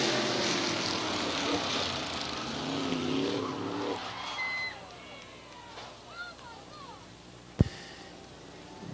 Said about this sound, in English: Bobby DeVore into the 28 of Brandon France and spun it around and collected his brother Jerry.